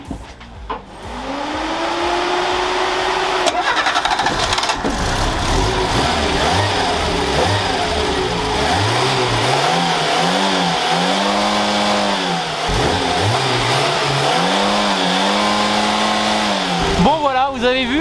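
A Renault 4L fitted with a new Renault 5 LS camshaft cranks and fires, then idles and revs repeatedly in rising and falling sweeps, loud and close, steady throughout.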